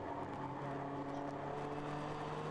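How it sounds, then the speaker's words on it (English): BMW E36 race car in a ChampCar endurance race at Harris Hill Raceway, its engine revving steadily and fairly loud with a continuous mechanical drone, heard at a distance from the track. "I just heard a money shift from an E36, but he's still running"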